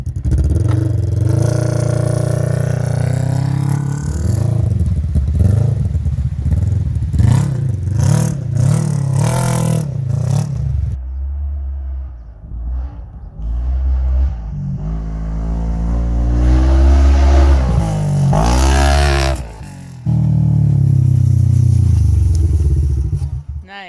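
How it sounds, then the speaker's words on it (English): A Polaris RZR RS1 side-by-side fitted with a loud Aftermarket Assassins aftermarket exhaust revs hard and close, its engine note rising and falling through repeated throttle blips, with a brief drop before climbing again. "Start that loud beast up, that ridiculous exhaust, Aftermarket Assassins."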